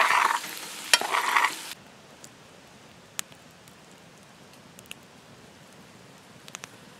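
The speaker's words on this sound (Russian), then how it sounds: "Как говорит Малышева, жареная картошка на подсолнечном масле – это яд" Loud sizzle of potatoes frying in sunflower oil with a stirring scrape fills the first two seconds, then cuts off to a quiet background with faint scattered clicks.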